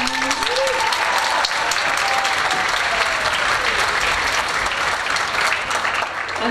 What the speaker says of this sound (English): Can I give a round of applause for our senior fans?